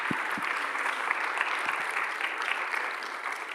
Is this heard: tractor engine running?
no